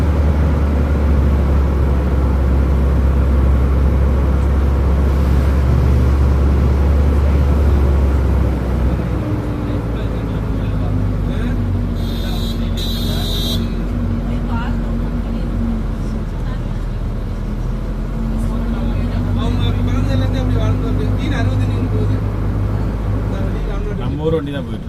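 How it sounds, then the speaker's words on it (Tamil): A car drives a misty mountain road near Munnar, heard from inside as a steady, loud low engine and road rumble that drones without break, with faint shifts in pitch. "நம்ம ஊர் வண்டி தான் போயிட்டு இருக்கு"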